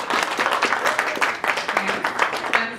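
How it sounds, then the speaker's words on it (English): Audience applause at the closing session of a digital-rights conference, a steady wash of many hands clapping close by with a few voices mixed in, lasting the whole moment. "So a round of applause to all of you."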